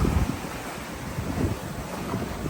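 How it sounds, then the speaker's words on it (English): Strong 18-knot wind on a sailboat at night, heard as a continuous rough roar of wind buffeting the microphone with a low rumble of water beneath it. "18 knots of wind."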